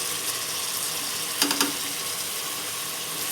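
Mutton fries with ginger garlic paste in a pan, a dense, even sizzle holding steady throughout, with a brief pair of utensil scrapes near the middle.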